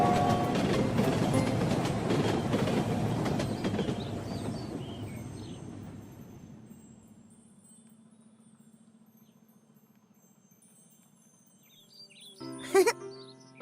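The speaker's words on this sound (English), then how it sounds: "And towards him comes a train." A cartoon train approaches with a loud rumbling, clattering roll that gradually fades into a low steady hum, followed by a brief sharp jingling burst near the end, with no talk over it.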